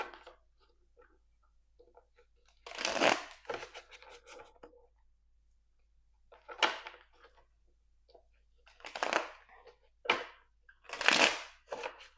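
Tarot cards shuffled by hand in a few separate bursts of riffling and slapping, close and moderately loud, with quiet pauses between, and no talking.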